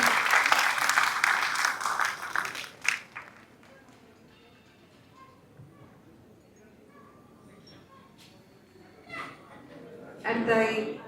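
At a film success celebration, a crowd applauds the cast and crew. Loud clapping fills the first three seconds, dies away to a quiet room with faint noises, then a short burst of clapping returns near the end.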